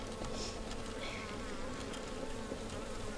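Honey bees swarm at an open beehive. A steady, faint buzzing drone fills the whole stretch, with no talk over it.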